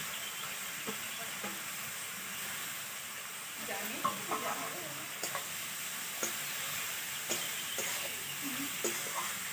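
Grated beetroot and mixed vegetables lightly frying in a pan, giving a steady soft sizzle and hiss throughout with occasional faint clinks and stirring scrapes, close and moderately quiet, no talking.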